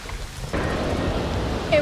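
Rain and thunder from a raging storm in the Jurassic World Evolution video game, a quieter opening that swells into a steady, loud rush of storm noise and rain. A voice may be faintly present.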